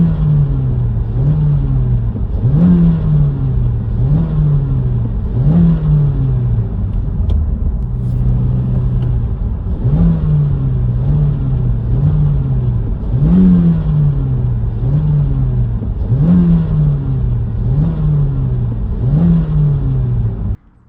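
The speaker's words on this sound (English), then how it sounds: "This is just clips of me kind of free revving the car in neutral, letting that RPM pass through that zone" A 2.0L Honda Civic with a six-speed manual, free revving in neutral with an engine bay rattle, rises and falls in steady repeated rev cycles, a loud close hum carrying a fluttering buzz through each pass.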